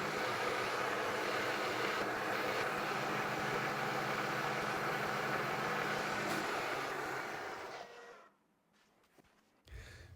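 A milling machine runs with a 1/8 inch carbide end mill at increased speed and slower feed, giving a steady, faint mechanical hum with a rhythmic chatter that fades out near the end.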